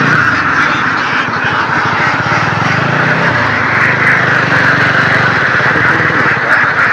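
A large flock of ducks crowds a rural road by the Chalan Beel wetland in Sirajganj, Bangladesh, making a loud, continuous mass of quacking with no speech.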